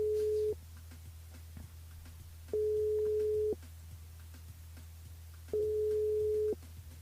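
Three long steady telephone ringback tones sound at even intervals while a live radio host places a call to a listener, each tone clear over a quiet low hum with no talking.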